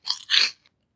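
Close, loud bite and chewing on a burger: two quick crunchy bursts of mastication within a second, then silence.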